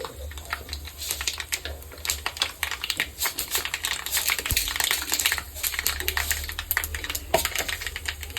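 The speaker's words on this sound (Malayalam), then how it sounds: "കടുക് പൊട്ടുന്നുണ്ട്" Mustard seeds crackle and pop in hot oil in a rapid, dense patter of sharp little snaps, steady and close throughout with no talking.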